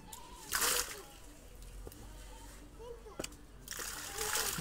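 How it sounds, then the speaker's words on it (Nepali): Water drawn up and splashing out in Nepal's Terai plains: bursts of splashing and sloshing at the start and again near the end, with a lower watery wash and faint voices in between. "हाम्रो तराईमा चाहिँ यसरी पानी निकालिने गरिन्छ देख्न सक्नुहुन्छ हजुरले"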